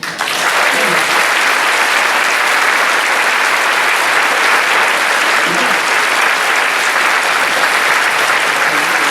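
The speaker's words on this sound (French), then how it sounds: "ils méritent tous d'être applaudis et les solistes aussi" A large audience gives loud, sustained applause for the musicians and soloists at a concert in Brest, an unbroken roar of clapping throughout.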